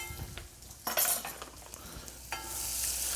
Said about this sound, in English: So we stirred it up a little bit